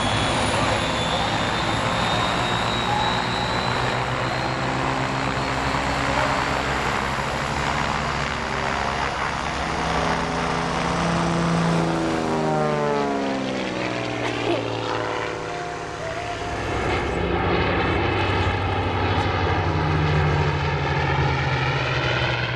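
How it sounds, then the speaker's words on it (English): A T-34 Mentor flies an aerobatic display at the EAA AirVenture Oshkosh airshow. Its steady engine drone stays loud throughout, and the pitch sweeps as it passes overhead and then recedes. "She now flies the T-34 Mentor Free Spirit in a graceful display which features coloured wingtip smoke during the day"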